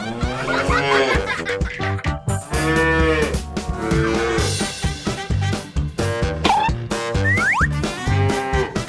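A buffalo moos loudly and repeatedly close by, with long drawn-out calls filling most of the stretch, mixed with cartoonish boing effects and snickering laughter.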